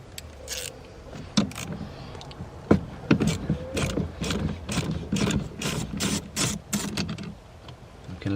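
A ratchet undoes the 13 mm nut on the battery cable of a BMW E60 5 Series, with a series of quick, close clicks in steady bursts over a rough background.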